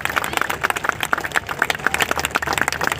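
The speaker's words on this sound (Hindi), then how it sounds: "ताली बजाओ अगर आप मेरी बात का समर्थन कर सकते हो" An audience claps together in sustained, dense applause, loud and close, with many hands beating in a rapid uneven patter throughout.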